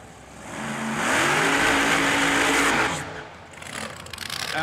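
Open-wheel dragsters at a drag strip, a loud engine revving and accelerating hard, pitch climbing through the run, then fading as the car pulls away while crowd noise lingers.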